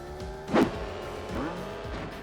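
Kart engine drone from Crash Team Racing, the PlayStation racing game: a steady buzzing motor tone with shifting pitch and a brief louder burst near the start, continuous and close, with no talking.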